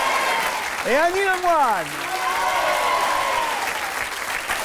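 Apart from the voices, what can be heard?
audience applause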